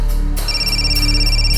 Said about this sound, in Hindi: पूजा, फोन उठाओ